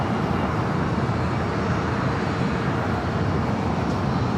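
An American Airlines airliner takes off from runway 25 right at LAX, its engines giving a steady, loud, broadband roar that holds without a break throughout, with no talk over it.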